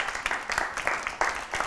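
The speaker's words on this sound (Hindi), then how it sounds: "मार्फा वालों के लिए बहुत सारी तालियां।" An audience at a school event applauds the café that supplied the refreshments, producing a brief, moderately loud patter of clapping with rhythmic accents and a faint voice underneath.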